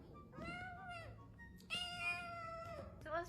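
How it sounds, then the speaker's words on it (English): A small kitten meows close by, three drawn-out plaintive cries spaced across a few seconds in a quiet room. "Look at this little kitten."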